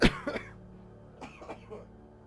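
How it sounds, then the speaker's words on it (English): A sharp cough at the start, followed by a couple of softer coughs and throat-clearing sounds, fairly close. "Still recovering from some kind of cough or something"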